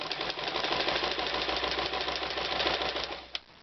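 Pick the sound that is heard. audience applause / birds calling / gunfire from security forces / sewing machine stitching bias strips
sewing machine stitching bias strips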